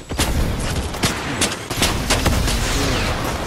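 Other players fire on the player in Fortnite: loud, sustained volleys of gunshots with rapid cracks and heavier booms, fairly close, with no talking over them.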